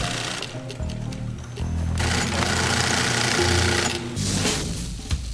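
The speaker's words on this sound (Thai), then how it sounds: "เครื่องร่อนต้องเสริมบางส่วน ที่ต้องการความแข็งแรง โดยใช้วัสดุหลายชั้นมาเย็บติดกันด้วยวิธีโบราณ" A sewing machine stitches several layers of glider wing material together, running in a continuous fast mechanical whir that stays close and fairly loud for the whole stretch, with no speech.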